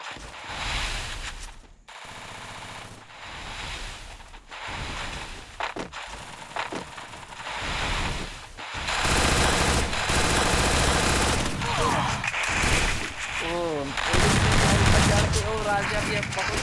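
Rapid MP40 submachine gun bursts and other gunfire ring out in a multiplayer video game match, loud and repeated, with voices talking over parts of it.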